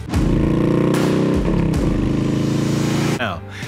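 A voice imitates a motorcycle engine revving, a buzzing, throaty drone that holds steady with a couple of quick pitch dips before cutting off near the end.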